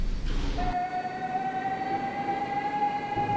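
A New York subway train, an R142A car on the 2 line, runs steadily close by with a long sustained tonal whine over broad rumbling rail noise, opening with a brief burst of clatter.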